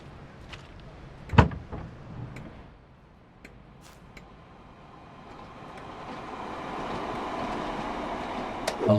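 In Train Sim World 2 on the West Cornwall line, a locomotive cab door makes a single sharp thud as the driver climbs aboard. A low engine rumble then builds steadily behind it.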